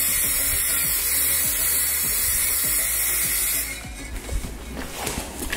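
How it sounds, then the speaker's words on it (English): A steady, loud hiss of spray paint from a can runs for about three and a half seconds, then stops, leaving quieter handling noises. "Just gonna lightly spray."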